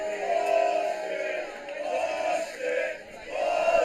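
A college baseball crowd jeers the home plate umpire, loud sustained shouting and booing from many voices rising and falling in waves.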